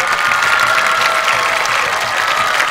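An audience at a Thai country-girl pageant show applauds and cheers, a dense, steady wash of clapping that stays loud from start to finish.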